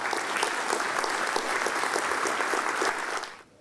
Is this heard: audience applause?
yes